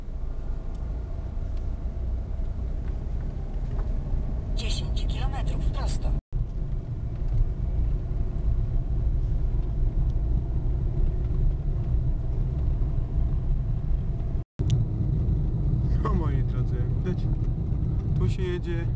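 A car pushing through deep snow on a mountain road in the Żywiec district of Silesia, heavy continuous engine rumble and road noise close up, with brief squeaky scraping moments and a voice talking over it.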